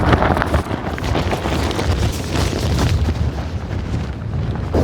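Strong wind gusting across an Atlantic beach on the Iberian coast, blowing sand, roars continuously and loudly at close range with buffeting rumble on the microphone throughout.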